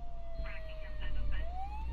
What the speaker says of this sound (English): Here comes the ambulance to take him away.